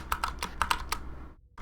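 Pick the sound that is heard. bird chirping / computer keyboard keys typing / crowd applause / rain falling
computer keyboard keys typing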